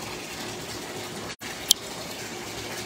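Water runs steadily from a tap into a bathtub where oven racks are left to soak, a continuous moderate gush with one brief gap and a sharp click near the end.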